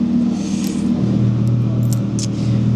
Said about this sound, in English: Matt's just put a Quicksilver on a Gen 2. He's just testing a valve controller now